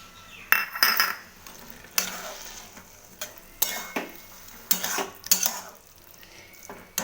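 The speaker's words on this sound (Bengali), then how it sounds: "এবার আমি এই মশলাগুলো আমি যেগুলো রেখেছিলাম সেগুলো দিয়ে দেব ভালো করে ছড়িয়ে দিয়ে নাড়তে থাকব" Spices for a cauliflower paratha filling are stirred in a hot pan, with a spoon scraping and clinking in irregular bursts over a light sizzle, close and moderately loud, with no talk.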